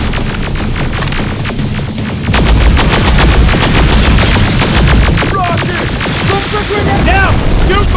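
Rapid gunfire from the Terminator Resistance video game, dense bursts of automatic shots that grow louder and more sustained midway, with shouted voices breaking in over the shooting.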